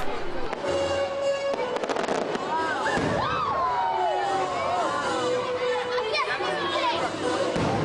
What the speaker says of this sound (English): to end our night at Magic Kingdom, we have fireworks once again.